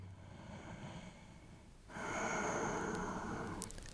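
Audible breathing during a stretching exercise in an abdominal workout, a soft steady breath that then swells into a longer, louder exhale, close and alone without speech.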